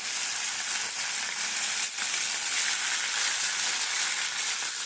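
Fish rubbed with salt and turmeric sizzles in a wok. The frying hiss is dense and constant, close and moderately loud, and no voices are heard.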